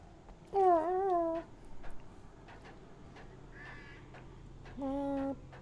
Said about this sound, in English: It's the crows.